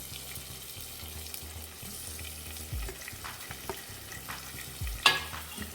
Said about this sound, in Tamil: வெங்காயம் நல்லா கலர் சேஞ்ச் ஆகுற வரைக்கும் வதக்கி விட்டுக்கோங்க.